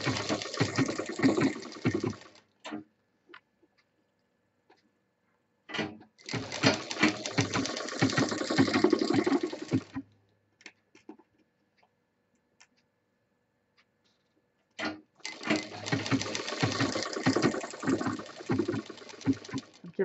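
Sewing machine stitching a zip strip between two pieces of handbag fabric, running in three bursts of rapid, even mechanical clatter separated by pauses with faint handling clicks.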